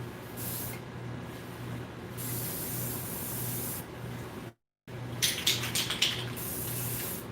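Spray paint can hissing steadily as it coats a figure's hair, a close continuous spray broken by a brief gap, then resuming with short bursts.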